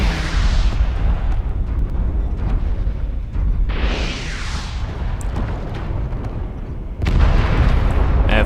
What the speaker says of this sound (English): That flea just dropped an airstrike on us.